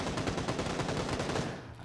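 Rapid automatic gunfire in PUBG rattles on continuously for about two seconds, a dense loud burst of shots with no pause.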